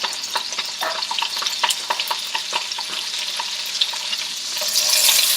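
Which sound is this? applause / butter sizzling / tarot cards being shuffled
butter sizzling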